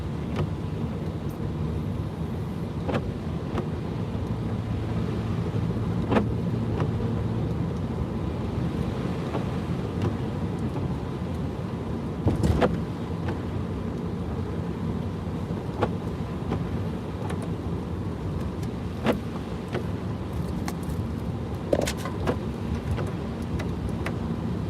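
A car drives a snowy road on the way toward Bays Mountain during Winter Storm Izzy, giving a steady low road and engine rumble with wind and tire noise throughout and a few brief knocks and bumps.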